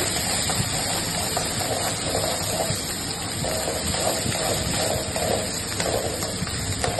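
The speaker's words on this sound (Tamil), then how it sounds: "அப்புறம் சோம்பு எல்லாத்தையும் சேர்த்து நல்லா வதக்கிக்கறாங்க" Fennel seeds and spices sautéing in a pan for a Tamil-style fish curry cooked by a wedding caterer, a loud, continuous sizzling hiss close up with no talk.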